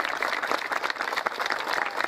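Steady applause from a crowd at a neighborhood plaza event, dense overlapping claps filling the whole stretch at a moderate, even level with no talking.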